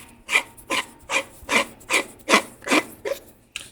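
Screwing a handle onto a brass lightsaber chassis: eight rhythmic rasping turns, evenly spaced about every 0.4 seconds, close and crisp.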